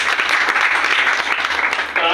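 Audience applause at a talk, a short burst of dense clapping from a crowd, steady and fairly loud throughout.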